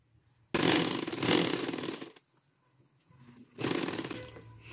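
A sewing machine runs two bursts stitching the seam of a dish towel with a double gathered border, a dense whirring buzz, close and steady, with a quieter pause between runs.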